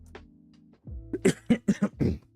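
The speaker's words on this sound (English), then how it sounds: "I don't usually cough into my microphone either" A short series of harsh coughs from one person close to the microphone, four or five rapid bursts after a brief throat sound.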